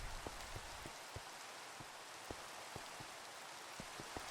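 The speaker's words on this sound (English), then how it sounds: "Ah, the rainy Minecraft worlds." Steady rain hiss in Minecraft fills the whole clip at a low, even level, dotted with soft scattered raindrop ticks and no voices.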